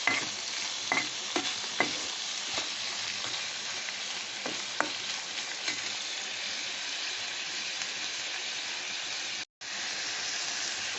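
Chopped garlic fries in butter in a pan for butter garlic prawns, a constant close hiss and crackle with occasional clicks of a spoon stirring, briefly cutting out near the end before resuming.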